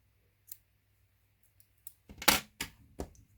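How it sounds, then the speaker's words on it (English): Scissors snipping through yarn while making an amigurumi rabbit doll: a few faint clicks, then a short cluster of close, crisp cuts and snaps near the end. "We're going to cut our yarn."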